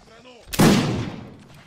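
A single loud, close blast from a muzzle-loading weapon at a historical reenactment by a Brandenburg artillery brigade, a sharp crack followed by a rolling boom that decays over a second, after a brief shouted voice.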